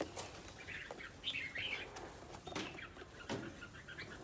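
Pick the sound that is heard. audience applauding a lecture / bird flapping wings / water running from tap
bird flapping wings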